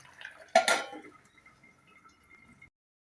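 A lid clatters down onto a pan of rohu fish dopiaza cooking with softened onions: one sharp metallic clank, then a short rattle that fades into a quiet, faint simmer.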